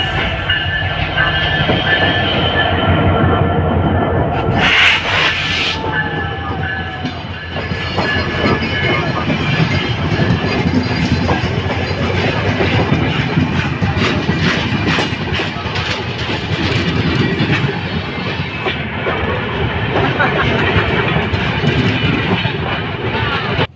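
Teesta Express train at Joydebpur railway station in Bangladesh, a loud continuous rumble of rolling wagons with wheel clatter, a brief hiss, and metallic clicks throughout, close by and steady.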